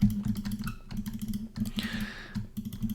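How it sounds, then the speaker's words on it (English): Rapid mouse clicks and keyboard taps while building in Minecraft Bedrock on a computer, a close, steady clatter of small sharp clicks in quick bursts with a brief whooshing game sound in the middle. "I'm sure you can really hear my mouse clicking"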